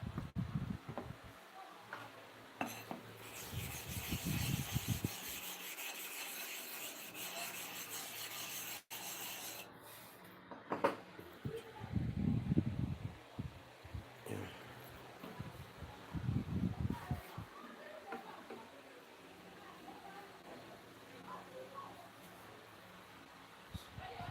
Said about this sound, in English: Let me sharpen for the second side.